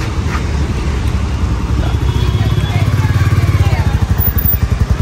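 A Royal Enfield Meteor motorcycle engine thumps steadily on a test ride, a low pulsing beat that quickens toward the end, with wind rush and a voice over it.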